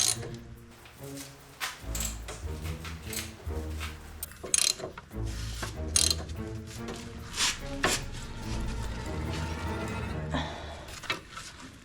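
A hand ratchet loosens a front strut bolt on a 2014 Ford F150, clicking in quick rapid bursts with brief pauses and shifts in direction, close and steady throughout, with no talking.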